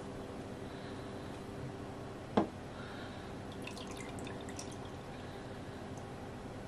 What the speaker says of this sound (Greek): Θα το βουτήξετε μέσα στο νερό.